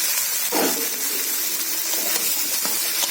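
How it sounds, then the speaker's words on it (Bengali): Washed okra hits hot oil in a wok, with a sudden splash of sizzle followed by a loud, steady hiss of frying close by. "ভেন্ডিটা আমি প্রথমে ভেজে নিচ্ছি বন্ধুরা"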